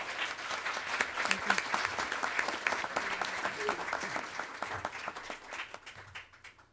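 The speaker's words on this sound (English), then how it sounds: "please an applause for our panel" Applause from a business forum audience for a panel discussion, steady dense clapping from a crowd that continues throughout before tapering off at the end.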